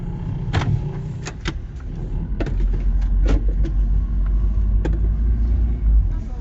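Car setting off and driving, with a steady low engine rumble close inside the cabin and occasional clicks and knocks over it.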